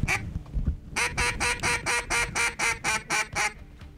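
Blue-winged teal and mallard drakes quack in a steady series of about ten close, loud calls in even rhythm, with a few softer calls and rustling just before.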